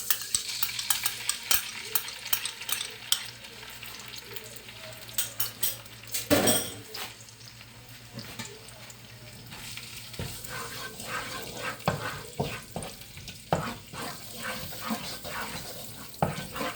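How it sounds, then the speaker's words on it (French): Minced garlic roasting in oil in a hot frying pan for coconut shrimp, with a low sizzle broken by repeated sharp utensil scrapes and clinks against the pan, close and busy, no voices. "Juste un petit peu rôtir l'ail émincé dans l'huile."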